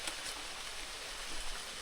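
Steady rain falls in a rainforest, a dense even hiss of drops on leaves and ground with no breaks or voices, close and moderately loud throughout.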